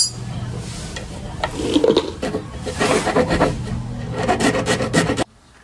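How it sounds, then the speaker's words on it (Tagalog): A hand saw rasps back and forth, enlarging a hole in a motorcycle license plate bracket, with close, uneven scraping strokes that swell and fade for about five seconds before stopping abruptly. "Gamitin natin tong lagari."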